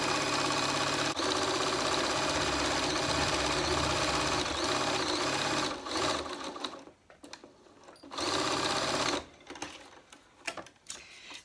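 A sewing machine stitches cloth face-mask fabric in a fast, loud continuous whir for about six seconds, then runs in shorter bursts with pauses.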